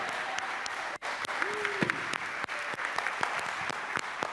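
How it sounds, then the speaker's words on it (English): Scattered, sparse clapping from a small congregation at a church celebration service as a child comes forward, individual claps audible with brief gaps and a faint tonal squeak partway through. "Give him a clap."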